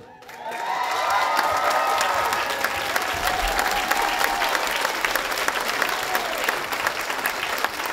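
A theatre audience applauds at a children's dance show, dense sustained clapping that swells in quickly and holds steady, with scattered cheers and shouts mixed in.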